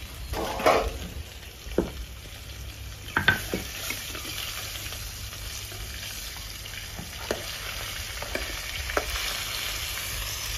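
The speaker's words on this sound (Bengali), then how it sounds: "এদিকে মাছ ভাজা হয়ে গেছে" Fish fries in a pan for a rustic village-style fish curry, giving a steady, quiet sizzling hiss with a few faint clinks and stirring taps and no voices.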